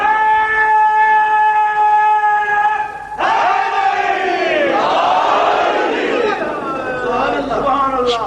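A crowd at a religious gathering raises a loud, sustained chanted slogan in unison, the sustained tones giving way to a surging mass of voices that carries on to the end.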